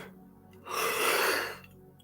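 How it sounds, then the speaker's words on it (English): A congregation at a Sunday service breathing out together in one deep group yawn, a soft airy swell that rises, holds for about a second and fades. "Oh, yeah, release that yawn."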